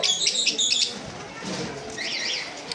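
Green Fischer's lovebirds in a bird shop give bright, rapid chirps in two short bursts, close by, with shop murmur underneath.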